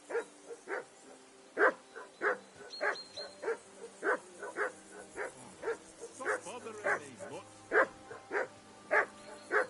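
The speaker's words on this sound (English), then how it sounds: "Jesus, Henry, that barking's driving me nuts" A dog barks repeatedly in the video game Kingdom Come: Deliverance II, a string of fairly regular, mid-distance barks and yips close together across the whole stretch, with faint background tones.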